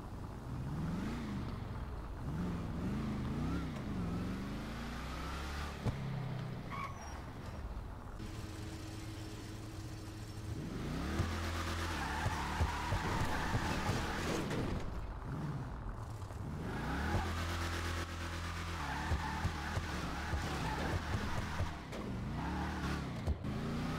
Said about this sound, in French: le bruit est assez impressionnant sur cette voiture